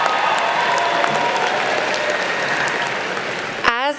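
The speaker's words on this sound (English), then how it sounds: "You can clap, that's exciting" A graduating class and guests at a university spring commencement clap together, a dense, steady wash of applause from a large crowd filling the hall for several seconds before a brief voice cuts in at the end.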